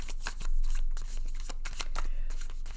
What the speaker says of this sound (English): we're just going to shuffle and we're going to take off the top 3 cards